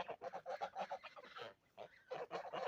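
Repeated nasal honks from a goose, close and fairly loud, in a quick run with a brief pause before more honking resumes.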